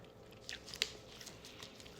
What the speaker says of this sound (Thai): เคี้ยวเลย